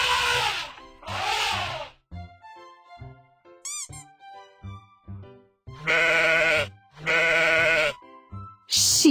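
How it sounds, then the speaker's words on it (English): Sheep bleat in loud, drawn-out calls, four strong bleats in two pairs at the start and end with quieter scattered sounds in between, close to the listener. "Sheep. Sheep."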